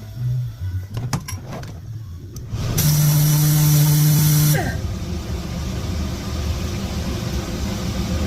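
A valve seat grinding stone is dressed during a Toyota cylinder head rebuild: after a few light knocks, a loud, steady high whine runs for about two seconds, then cuts off and fades.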